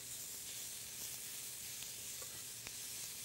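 Bread croutons frying in a little oil in a pan over medium heat, giving a steady, close, even sizzle with a few faint pops and no talking.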